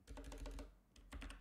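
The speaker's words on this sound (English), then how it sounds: "pressing Ctrl T and typing ChatGPT" Quick bursts of keystrokes on a computer keyboard, typed in two short runs with a brief pause between, close and fairly quiet with no voices.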